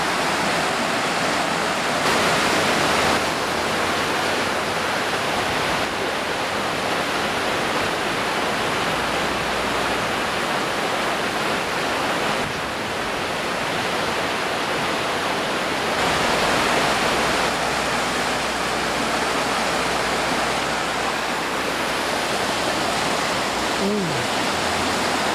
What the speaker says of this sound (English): On the side of the Roxford River.